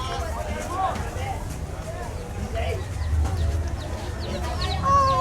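Chickens clucking at a small farm, with several soft clucks and squawks scattered throughout while people talk over them.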